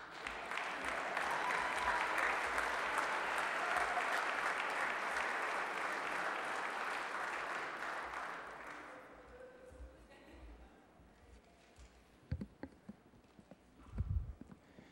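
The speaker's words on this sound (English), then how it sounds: "Once again, a nice round of applause for not only the student counterparts" Sustained audience applause fills a room at a student government day meeting, loud and even for about eight seconds before fading into scattered claps and a few thumps.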